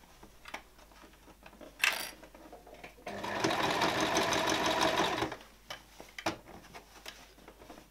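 Sewing machine stitching a shirt sleeve seam, running in one steady, fairly loud burst of about two seconds, with quieter clicks and handling before and after it.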